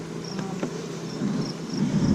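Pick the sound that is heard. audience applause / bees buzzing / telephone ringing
bees buzzing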